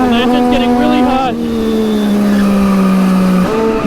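A race car engine drones steadily and loudly at close range during a winter heat race, its pitch holding nearly level and dipping slightly, with the car leaking coolant and running hot.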